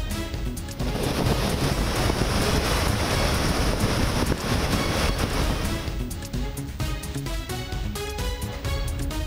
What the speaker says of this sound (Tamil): சென்னை, எண்ணூர், மாமல்லபுரம் உள்ளிட்ட இடங்களில் கொந்தளிக்கும் வங்கக்கடல்